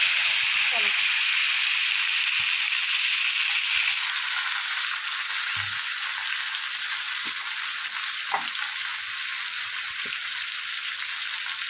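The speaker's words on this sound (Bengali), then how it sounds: "তেলের মধ্যেই আমি দিয়ে দেবো পেঁয়াজ" Onion frying in the oil left after frying parshe fish, a continuous bright sizzle with scattered low spoon knocks and stirring taps; the sizzle eases slightly after the first few seconds.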